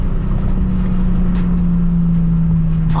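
A Nissan 350Z engine hums steadily on a freeway on-ramp while downshifting, with a loud, close drone and a slight shift in pitch partway through, heard from inside the car.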